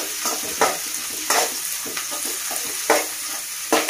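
Green chilies frying in hot oil in a pan for a brinjal and okra curry, a steady close sizzle broken by several louder scraping stirs of the spatula, with no talking.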